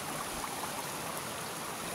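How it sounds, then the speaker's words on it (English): Creek water flows steadily along an Appalachian Trail stretch near Dicks Creek Gap, a continuous broadband rush and trickle filling the whole moment, close by and without any talk. "So I was just filling up my water at this creek here."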